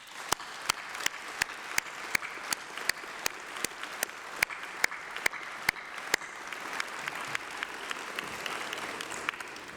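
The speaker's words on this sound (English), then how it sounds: "Graduates, please join me in a massive round of applause for them." Applause from a graduation ceremony audience, with steady crowd clapping and sharp, evenly spaced claps standing out near the front. It continues for about ten seconds at moderate loudness.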